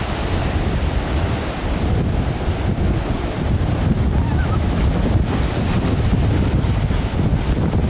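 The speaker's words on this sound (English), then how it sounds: "tackling the waves" Ocean waves breaking on a beach: a continuous loud wash of surf noise, heavily mixed with wind buffeting the microphone, with no clear pauses between breakers.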